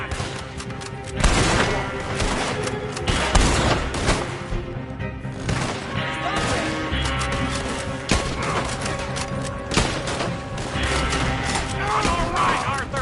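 Sustained gunfire from a Red Dead Redemption 2 shootout, with repeated loud shots, booms and crashes layered over one another, while a voice shouts over the din.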